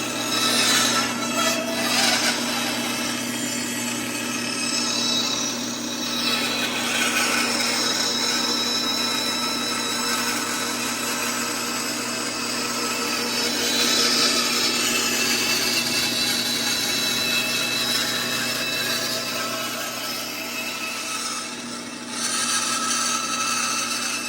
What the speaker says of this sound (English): All right, time for the bandsaw.